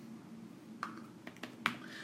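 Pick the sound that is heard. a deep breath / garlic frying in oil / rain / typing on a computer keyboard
typing on a computer keyboard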